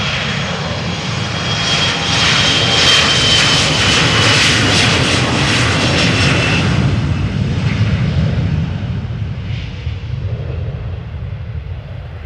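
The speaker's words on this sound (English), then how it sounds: "the Embraer 175 to Poznan is spooling up, taking off" A KLM Embraer 175 jet bound for Poznan spools up and takes off, a loud broad engine roar peaking early, then slowly fading as it climbs away.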